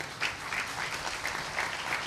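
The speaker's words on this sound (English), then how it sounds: "let's give them a round of applause" At an adoption day celebration, an audience claps for caseworkers, producing a soft, steady ripple of applause that sounds somewhat distant and muffled across its brief two seconds.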